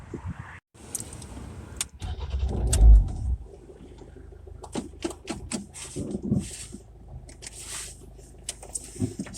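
A Rover 75 car starts and pulls away on an old section of road in Edinburgh, with a brief engine rumble, door and mechanical clunks, and a swelling low drone close by.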